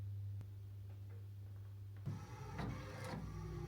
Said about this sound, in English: I'm just going to print my vision board, colour A4, send that to the printer.